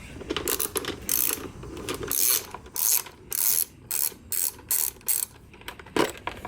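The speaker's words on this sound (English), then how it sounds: "we're gonna be grabbing our ratchet with our 5mm hex and to remove the seat" A ratchet fitted with a 5mm hex bit clicks in short repeated bursts while backing out a seat bolt on a Yamaha Virago motorcycle, close and crisp with brief pauses between strokes.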